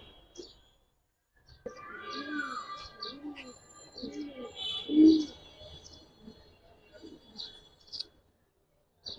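Giribaz and coloured pigeons in a collection, a few soft throaty coos repeated at close range between quiet chirps and small clicks, with someone talking nearby.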